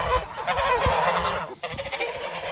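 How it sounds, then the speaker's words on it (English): A flock of geese honking loudly and continuously nearby, overlapping calls filling the short stretch. "Crazy chickens, crazy geese."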